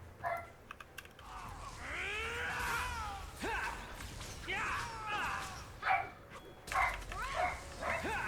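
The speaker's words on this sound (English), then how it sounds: "My dog is going apeshit over something" A dog barking and yelping in bursts at a distance from the microphone, mixed with whimpering cries, over computer keyboard typing and faint game sounds.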